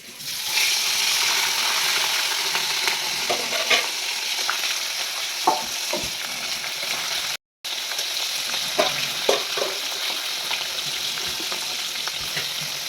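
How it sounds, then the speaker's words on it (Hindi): Fish frying in hot oil, a loud, steady sizzle and crackle that fills the whole stretch, with a few soft pops and clicks and one very brief break. "तेल गरम हो चुका है, तो अभी हम फ्राई करने वाले हैं मछली।"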